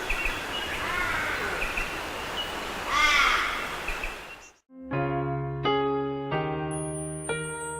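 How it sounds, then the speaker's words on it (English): A crow gives several harsh, rasping caws over a rustling outdoor background, then the calls stop and a run of tonal music takes over. "it may interact with other species of crows and ravens"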